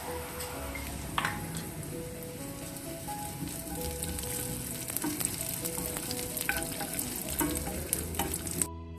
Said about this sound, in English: I'm going to be sauteing this till it turns golden brown